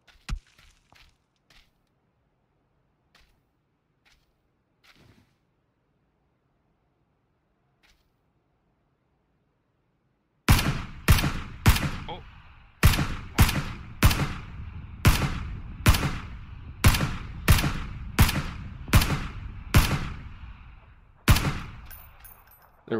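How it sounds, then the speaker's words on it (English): Gunfire in the video game PUBG: faint scattered shots and footsteps at first, then a rapid string of loud, sharp gunshot cracks in a fairly regular rhythm, with no talking. "Someone's shooting at me."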